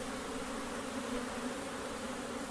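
Honeybees drone steadily around an open long hive, a close, continuous buzzing hum with no pauses and no voices.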